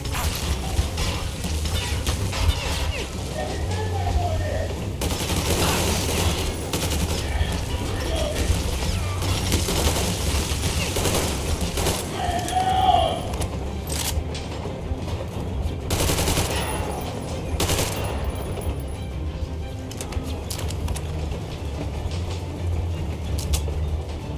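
Gunfire in the video game Metro Exodus crackles in sharp repeated bursts, some close and loud, over a constant clanking, rattling mechanical din, with short gaps between volleys.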